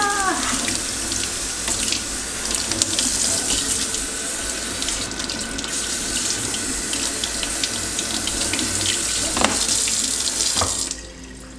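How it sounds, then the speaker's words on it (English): A water tap runs steadily into a sink while bleached hair is rinsed under it, a continuous close splashing flow that holds for about eleven seconds before cutting off near the end. "Let's go rinse."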